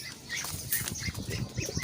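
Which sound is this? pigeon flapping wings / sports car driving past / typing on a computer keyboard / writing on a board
pigeon flapping wings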